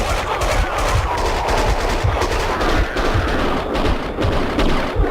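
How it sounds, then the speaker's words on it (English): Gunfire in the video game Max Payne 2 rattles continuously as rapid overlapping shots and thuds over a dense, loud layer of game noise. "Someone must have heard the gunfire."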